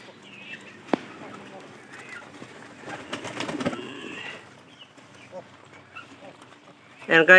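A pet pigeon recovering from a cold gives soft, low coos and clucking sounds at close range, with a burst of rustling midway and a louder flutter at the end.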